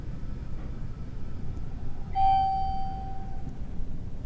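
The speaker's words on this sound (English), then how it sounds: "At least this one has a chime, well the other one had a bell." A Dover Impulse hydraulic elevator at a college campus building in Charlotte, North Carolina sounds a single clear arrival chime that rings and fades over a steady low machinery hum.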